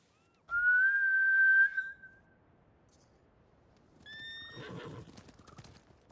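A horse in the video game Ghost of Tsushima whinnies loudly once, a long high neigh, then after a pause another shorter, rougher whinny with snorting and shuffling hooves.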